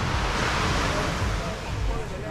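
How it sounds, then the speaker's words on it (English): Broad, steady surf washes onto Lamai beach on Koh Samui, a continuous roar of waves with some wind noise across the microphone and no clear voices. "This is the main Lamai beach."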